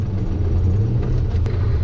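Modified 20-plus-year-old car making 1000 rear-wheel horsepower, its engine giving a steady, heavy low rumble heard from inside the cabin.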